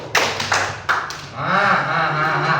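A classroom audience claps in a clapping game, a few sharp, separate claps close together, followed by a longer ringing tone.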